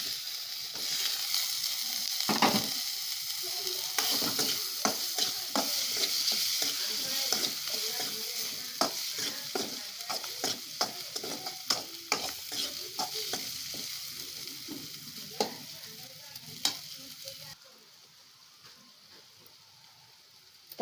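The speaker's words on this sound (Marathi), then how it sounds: "तर आपले टोमॅटो सुद्धा भाजले आहेत।" Tomatoes and spices frying in oil for masala bhindi, a close, busy sizzle broken by frequent sharp scrapes and knocks of a spoon stirring the pan, fading quieter near the end.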